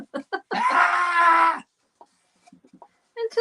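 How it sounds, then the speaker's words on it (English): A man lets out a loud, sustained scream lasting about a second while brushing paint onto laser-cut state shapes, with short vocal bursts before it and a few quieter sounds after. "Always scream when painting."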